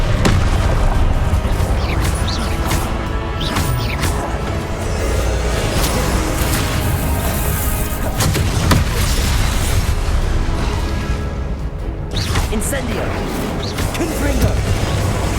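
Confringo fire-blast spells explode in Hogwarts Legacy, repeated loud booms and bursts crowding a dense, continuous battle din with voices over it.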